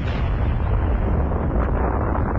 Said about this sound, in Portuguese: provocando uma explosão de proporções nunca vistas